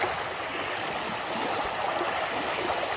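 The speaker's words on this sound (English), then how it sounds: "Even just listen to those waves lapping up on the shore." Ocean waves lap gently on the shore of Shark Bay at Denham, giving a steady, close wash of water and soft surf noise with no voices over it.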